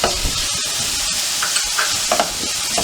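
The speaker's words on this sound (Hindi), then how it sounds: "और इसे 1 से 2 मिनट तक स्लो फ्लेम पर सॉटे कर लेंगे।" Yellow and red capsicum sautéing over a slow flame in a pan, a loud, dense, steady sizzle with occasional spatula scrapes and stirring sounds, close up and with no talking.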